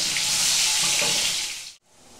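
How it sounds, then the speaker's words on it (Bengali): Whole small potatoes sizzle steadily in hot oil for a chicken dak bungalow curry, a loud, dense frying hiss that cuts off abruptly near the end, leaving only a quieter low hiss. "আলুগুলো ভেজে নেওয়া হয়ে গেছে, এগুলো আমি তুলে নেব।"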